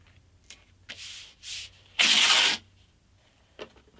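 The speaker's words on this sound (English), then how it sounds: "I'm going to burnish it down just to make sure it sticks properly" Sandpaper being rubbed and burnished by hand onto the drum of a homemade drum sander, heard as a few short, quiet scuffing strokes followed by one longer, louder rub, with brief taps between.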